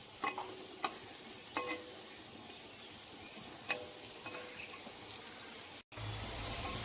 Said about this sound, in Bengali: হলুদ লবণ দিয়ে আলুগুলো ভেজে নিচ্ছি।